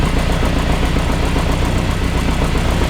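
An Austin Mk1 with an Arden 8-port head idles during start-up fuel mapping, running slightly lean with a steady, close, loud mechanical rumble and an even pulsing beat.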